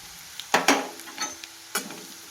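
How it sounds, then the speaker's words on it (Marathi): Potatoes frying in a pan for sabudana, with sharp sizzling bursts and a few stirring scrapes that rise and fade, close by and without talk. "आलू आता फ्राय करून घेते."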